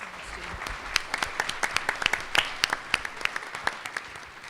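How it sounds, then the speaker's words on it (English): Audience applause in a hall at a Chicago mayoral forum, greeting the moderator: sustained clapping from a crowd, fairly close and steady, with sharper individual claps standing out, no talking over it. "why don't you just stay right on clapping"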